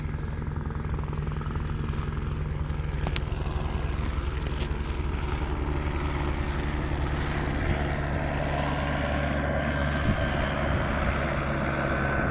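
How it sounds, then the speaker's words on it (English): A helicopter passing overhead near the ocean under a blue sky, a steady droning rotor hum that stays loud and constant throughout, with no talking. "A helicopter's coming right now"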